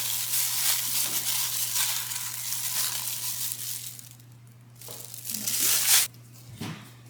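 A crinkly plastic glove rustles and crackles close by in bursts while breaking up crab meat, followed by a quieter pause and a final sharp crumpling flurry, with a steady low hum underneath.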